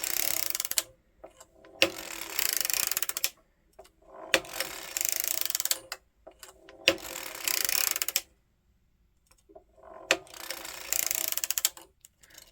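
A hand-cranked circular sock machine knits shortie socks in loud, close bursts of rapid ratcheting clatter, about four runs of a few seconds each separated by brief pauses.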